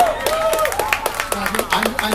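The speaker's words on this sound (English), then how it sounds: "I'm shocked to hear people applauding that." Scattered clapping from the audience at a cryptocurrency debate on a cruise, a few distinct claps beneath someone speaking over them.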